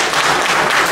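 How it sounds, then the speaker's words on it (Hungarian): An audience at a Pontic genocide memorial event applauds the oldest attendee, a 90-year-old man, with dense, loud, continuous clapping from a close crowd. "Tapsoljunk meg!"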